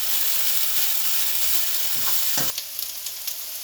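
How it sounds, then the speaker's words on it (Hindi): Ingredients for chicken fried rice frying in a pan, a loud dense sizzle that runs steadily before dropping away, with a few clinks of stirring near the end and no talking. "इनको तकरीबन 5-7 मिनट के लिए मैं फ्राई करूँगा।"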